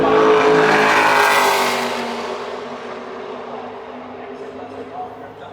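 NASCAR Xfinity race cars roar past the start-finish line at Phoenix during championship qualifying, a loud engine rush that fades into a distant drone while a commentator talks over it.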